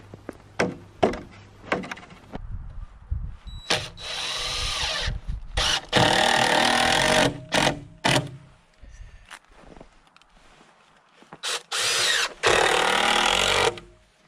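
A power drill drives screws into boards on a pig house build, with loud bursts of whirring of varying length separated by short pauses and quieter handling noise.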